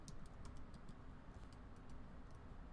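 Typing on a Mac computer keyboard: a quick, uneven run of soft key clicks, close and fairly quiet, heard alone over a faint steady background hum.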